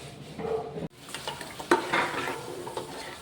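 Water hits a pan of frying masala for a mackerel curry. The sizzle cuts out briefly, then bursts back, with spoon-stirring scrapes and faint pan clinks close by.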